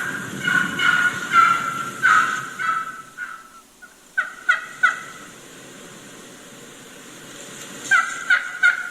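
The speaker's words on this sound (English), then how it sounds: "you can hear a couple of different hens doing that same type of yelping" Wild turkey hens yelp in short bursts of repeated raspy notes, a cluster early on, a few more midway after a pause, and another quick series at the end, fairly close with no talk.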